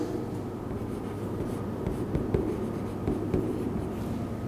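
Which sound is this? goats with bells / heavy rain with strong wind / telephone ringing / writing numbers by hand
writing numbers by hand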